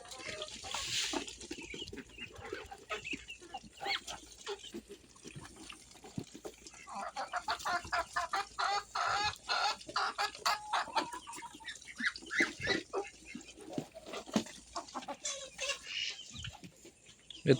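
Chickens cluck and murmur nearby in a busy, uneven stream, with occasional louder squawks and a soft outdoor background.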